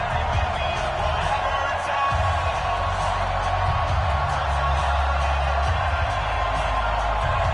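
A stadium crowd in an EA Sports NFL video game, a sold-out Patriots against Kansas City Chiefs game, roaring in a steady dense wash while a commentator talks over it.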